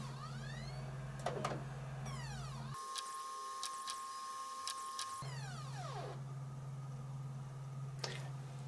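A PS4 Pro disc drive spins up while trying to read a PS5 disc, giving a steady motor hum that briefly drops out and then resumes, with faint clicks and whirring sweeps from the mechanism.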